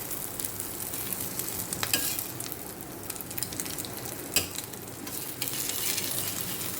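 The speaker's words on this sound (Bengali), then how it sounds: "এই যে ডিম ভাজা হচ্ছে।" An egg fries on a griddle pan, giving a continuous close sizzle broken by occasional crackles and light scraping clicks, with no voices.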